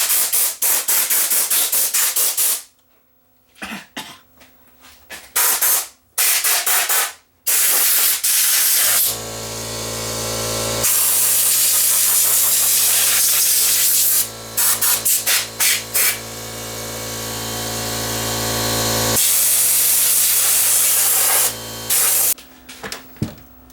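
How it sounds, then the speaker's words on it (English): Compressed air blasting dust out of an old solid-state AGS Trio 30G AM/FM stereo receiver, loud hissing bursts, short spurts early then long sustained blowing with brief pauses, close and alone. "We'll get the air compressor out here and blow the dust out of this thing."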